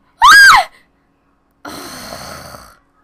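A person lets out one loud, close, high-pitched scream lasting about half a second, then after a pause a longer breathy, rasping exhale trails off.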